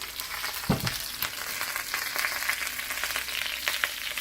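Lentil dal frying in a pan as ginger goes in, a steady close sizzle with a few sharper crackles and pops and no voices.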